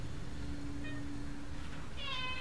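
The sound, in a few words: cat meowing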